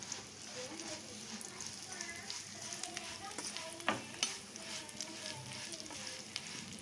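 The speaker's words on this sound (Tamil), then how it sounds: "இதிலே கொஞ்சம் சேமியா போட்டு நம்ம நல்லா வறுத்துக்கலாம்." Vermicelli roasts in ghee in a pan, giving a quiet sizzle with scattered stirring scrapes, while a voice talks faintly in the background.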